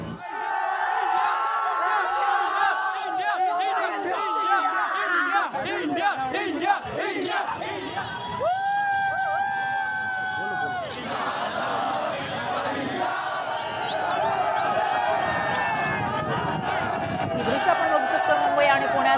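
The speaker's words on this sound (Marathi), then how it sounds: "क्रिकेट प्रेमी मोठ्या संख्येने मध्यरात्री रस्त्यावर उतरले होते आणि त्यानंतर जल्लोष करत होते" Cricket fans celebrate India's T20 World Cup win in the midnight streets of Mumbai and Pune: a dense crowd roars and chants, with whoops and shouts, a horn-like tone blaring briefly midway, and voices throughout.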